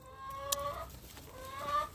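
Backyard chickens cluck softly and intermittently while being fed gingerbread, with a few short, higher calls standing out against a quiet background.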